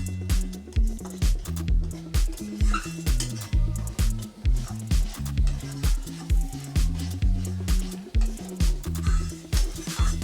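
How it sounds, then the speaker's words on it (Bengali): Spice paste stirred and fried in a pan on medium flame, a spatula scraping and knocking the pan in a regular back-and-forth rhythm, close and clear. "মশলাটাকে ভালো করে কষিয়ে নেব মিডিয়াম ফ্লেমে।"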